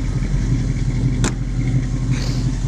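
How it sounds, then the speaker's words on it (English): A 1966 Ford Mustang with a 289 four-barrel V8 and Flowmaster dual exhaust idles close by in a steady, low rumble, with a brief higher click partway through and no speech. "It's got a dual exhaust system with Flowmasters."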